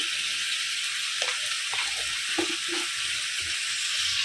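Grated tomato paste tipped into spices frying in a pan for a potato and pea curry, a steady bright sizzle with a few soft stirring knocks, close and alone.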